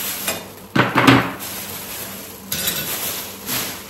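Lunch boxes handled in a home kitchen before washing, a few separate bangs and plastic clatters, with one louder burst of knocking and two quieter knocks later.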